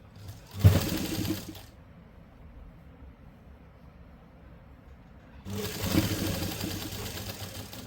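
A sewing machine stitches a simple suit (kurti), running in a steady burst, falling silent for several seconds, then starting again with a second sustained run, close and clear with no talk.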